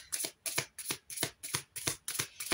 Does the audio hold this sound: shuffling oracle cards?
yes